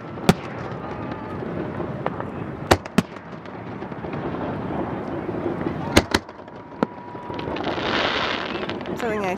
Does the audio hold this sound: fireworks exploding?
yes